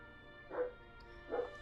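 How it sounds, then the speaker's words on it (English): Two short dog barks sound faint and far off in the background, spaced about a second apart over a quiet hum. "I'm sure it can be quite annoying to hear a bunch of dogs barking in the background"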